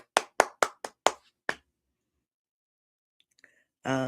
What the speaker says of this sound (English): So another round of applause for Laura's son.